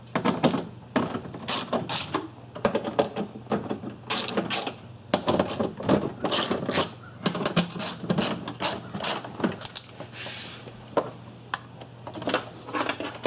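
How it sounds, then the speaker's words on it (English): Bolts are worked loose from a Volkswagen Jetta driver door, giving close, irregular metallic clicks and ratcheting taps in quick clusters over steady low background noise. "Now we're going to be removing these bolts"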